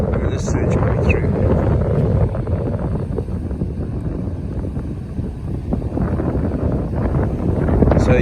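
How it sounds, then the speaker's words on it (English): Strong south wind buffets the microphone at a river mouth, a loud, steady roar of rumbling gusts throughout, with surging water mixed in beneath. "Strong south wind blowing."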